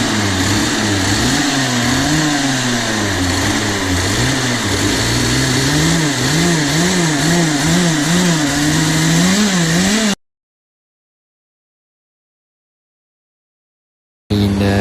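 A racing kart engine howls at high revs, wavering up and down in pitch for about ten seconds, loud and close, then cuts to silence before briefly returning.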